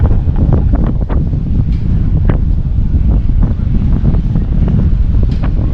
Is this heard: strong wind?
yes